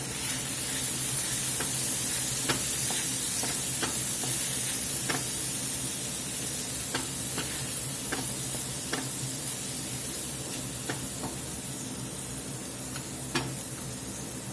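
Flour cooking in hot bacon fat in a pan for pork chop gravy, giving a steady close sizzle and hiss with faint scattered pops and scrapes throughout and no talk.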